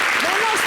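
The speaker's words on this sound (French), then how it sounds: "On applaudit pour le révérend Wifis Dawi" Audience applause on a French-language talk show, a brief dense burst of clapping heard at steady loudness with a faint voice rising above it.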